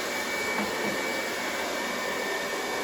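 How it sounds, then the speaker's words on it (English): A heat gun blows steadily over wet acrylic pour paint in a fluorescent Dutch pour, giving a constant, fairly loud whooshing roar with no break for the full stretch and nothing else heard. "Putting some heat on top first."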